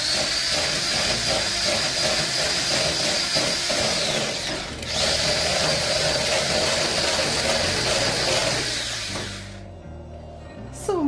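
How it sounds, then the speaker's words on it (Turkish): Sugar and eggs whisked together in a home kitchen, likely by an electric mixer, giving a steady, loud whirring hiss with a faint rattle that runs continuously for about nine seconds before winding down. "şekerimi ve yumurtamı çırpıyorum"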